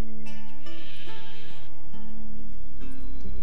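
Sheep bleating in The Witcher 3, several wavering bleats in a row, close and clear, with no talk over them.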